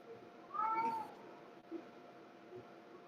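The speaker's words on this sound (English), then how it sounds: "There's a cat" A cat yowls once in a drawn-out, wavering meow, faint and somewhat distant against quiet room noise, then falls silent.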